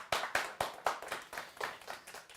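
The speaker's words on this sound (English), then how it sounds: "Let's have a round of applause for David Underwood." Short round of audience clapping at a live interview event, about nine distinct, fairly quick claps from a small group that soften and trail off within a couple of seconds.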